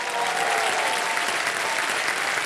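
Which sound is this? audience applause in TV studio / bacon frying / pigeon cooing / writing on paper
audience applause in TV studio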